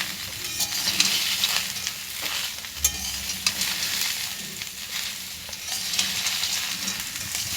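Bori, potato and poppy seed mixture sautéing in a pan gives a continuous close sizzle with scraping stirring strokes and occasional clinks throughout, and no one speaks.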